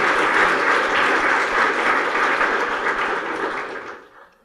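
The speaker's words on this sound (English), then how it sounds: "I think that needs an applause" Audience applause at a city State of the City address in Hemet, a steady dense wash of clapping that holds for about four seconds and then fades out near the end.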